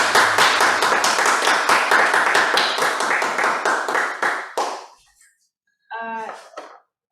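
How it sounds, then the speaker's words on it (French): A small audience gives a certificate winner a brisk round of applause, dense even clapping for about five seconds that thins and stops, followed by a short spoken voice. "Vos applaudissements."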